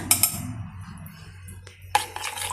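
Watermelon juice ingredients, including basil (sabja) seeds, being stirred in a glass: a couple of sharp clinks at the start, a quieter stretch of scraping, then another bright clink and a rattle near the end, with no talking.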